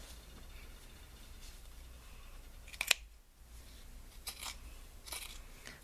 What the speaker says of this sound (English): I'm just going to continue cutting above the stitching line, just removing this band